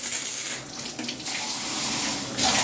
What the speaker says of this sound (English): Spray here. Jets coming out there. Jets coming out here.